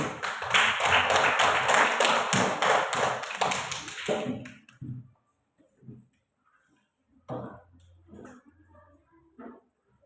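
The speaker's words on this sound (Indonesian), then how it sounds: "tepuk tangan untuk kita semua" An audience at an Indonesian church gathering bursts into dense, rapid applause that fills the room for about four seconds, then cuts off, leaving a few scattered taps and quiet murmurs.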